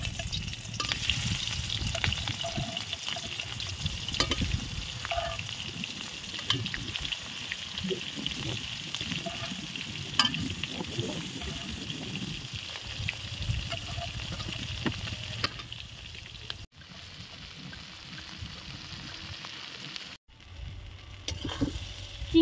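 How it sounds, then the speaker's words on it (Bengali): Prawns frying in well-heated oil in a home kitchen for a Bengali prawn malai curry, a loud continuous crackling sizzle with stirring, steady for a long stretch before briefly cutting out near the end. "এবার চিংড়ি মাছগুলো আমি ভেজে নেব।"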